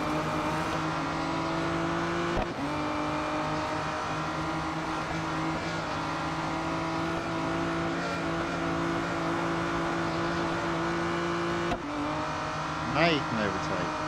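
In the racing game Real Racing 3, an Aston Martin Vulcan AMR Pro drives with a steady engine drone. Gear shifts come as brief breaks, and a player talks over the engine.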